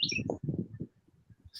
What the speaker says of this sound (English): Sounds like a cardinal or a robin.